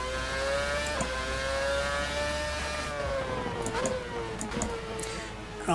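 The V8 engine of a 2013 RSS Formula car revs high and strains through sustained tones that rise and dip with gear shifts. The engine sound is loud and close, with a few sharp clicks near the end.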